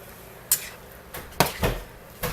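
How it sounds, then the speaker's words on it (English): Utensil scraping and clinking against a pan while stirring a veggie stir-fry on a simmering stove, a handful of sharp scrapes and knocks spaced irregularly, close and fairly loud, no talking. "I'm just going to put that in there. I'm going to stir that up."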